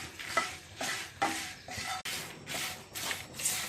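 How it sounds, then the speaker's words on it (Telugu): Curry leaves and dried red chillies dry-fry in a pan, a soft sizzle under rhythmic scraping strokes as they are stirred, moderately quiet and close. "కరివేపాకును కూడా వేసుకొని వేయించుకోవాలి."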